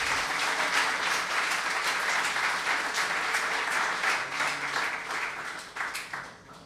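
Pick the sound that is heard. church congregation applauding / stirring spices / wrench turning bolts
church congregation applauding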